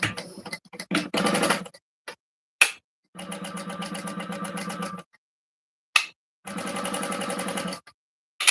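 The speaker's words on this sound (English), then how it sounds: "I'm going to sew this, and I'm going to move I've got my stitch length down to a 3" A sewing machine stitching the front slip pocket of a shoulder bag at a stitch length of 3, running in short bursts and then two long steady whirring runs broken by pauses and clicks.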